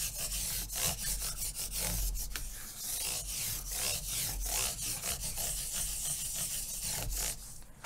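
Frets on a nylon-string classical guitar rubbed to a shine, a steady close-up rasping scrape that repeats in quick back-and-forth strokes with no talking.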